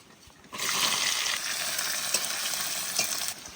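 Chopped onion drops into hot oil with bay leaf, cumin, cinnamon, cardamom and cloves for a village-style chicken and potato curry, setting off a loud, steady sizzle that continues for about three seconds and is broken by a few stirring clinks.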